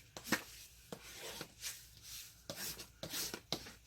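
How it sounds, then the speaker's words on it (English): A bone folder burnishes glued paper on a craft tea pocket, giving soft dry rubbing strokes in short, irregular bursts, close and fairly quiet, with no talking. "I am going to burnish this so the glue sticks, as it were. Just use this bone folder to do that."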